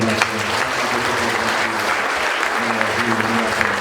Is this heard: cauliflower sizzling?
no